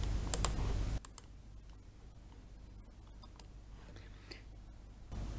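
Computer keyboard keys pressed for a Ctrl-C copy shortcut while building a OneNote template, a few quick quiet clicks near the start, followed by soft sparse taps over a low hum.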